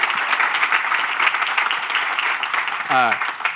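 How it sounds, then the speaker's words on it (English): Dense applause from a crowd claps steadily throughout, with a brief voice rising over it near the end. "please give him a round of applause for that"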